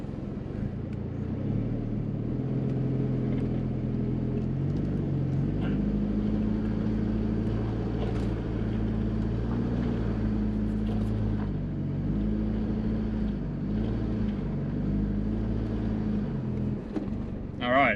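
A 4x4 truck with a front diff locker crawls slowly forward off-road on slippery ground, its engine a steady low drone that shifts gently in pitch, with faint rustles and knocks from inside the cab.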